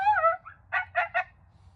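A FoxPro X-24 electronic game call plays goose calls at volume 30: one drawn-out honk followed by three short, sharp honks in quick succession, loud and close, with no talking.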